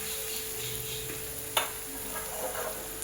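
Potatoes frying in a pan give off a quiet, steady sizzle. Small stirring clicks and one sharp knock can be made out, and nobody speaks.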